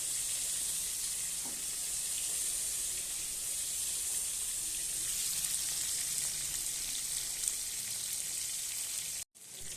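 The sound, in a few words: prawns frying in hot oil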